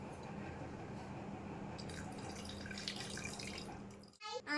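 Water is poured over ingredients set to soak for sambar, making a steady close trickle and splash that ends in a brief clatter.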